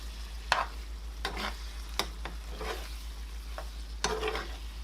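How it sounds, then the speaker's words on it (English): Shepherd's pie filling stirred in a pan, a low sizzle under several sharp scraping and clacking strokes of a spoon against the pan, close up, with a low steady hum beneath. "And let's mix it again."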